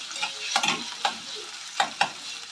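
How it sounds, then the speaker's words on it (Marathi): Potatoes added to a hot pan sizzle steadily while being stirred, with close scraping strokes of the spoon recurring every half second or so over the frying hiss. "मी पटकन हे जे पोटॅटो आहे यामध्ये घालते. आणि सगळं व्यवस्थित मिक्स करून घ्यायचं."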